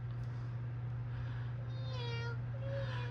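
A cat meows a couple of times in a Blue's Clues game, with short rising and falling calls over a steady electronic hum and quiet background.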